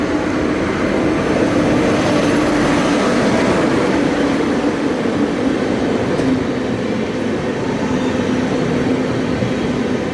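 Coromandel Express train arriving at a station: a loud, continuous rumble and rattle of rolling wagons with a faint steady tone, sustained throughout without pause and with no talk.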